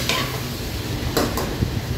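Meat and onions fry in a pan after roughly ten minutes of cooking with the water boiled off, making a steady close sizzle broken by scraping stirs of a spoon against the pan.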